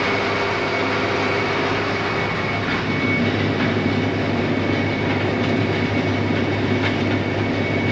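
Loud, steady jet engine roar from a big plane arriving at a small airport, continuous and close with no talk.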